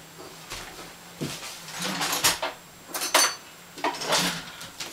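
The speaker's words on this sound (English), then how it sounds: "I like to use a little fork to mix the colors" A small fork clinks and scrapes against a dish while mixing food coloring for hand-dyeing yarn, a series of light metallic taps and swirling scrapes in irregular bursts, close and fairly quiet.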